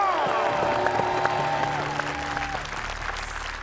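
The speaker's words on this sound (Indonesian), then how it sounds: "Tepuk tangan untuk Indonesia!" Audience applause at an evening Indonesian badminton-themed stage show, a dense steady clapping wash that holds loud throughout with tonal music and crowd noise mixed underneath.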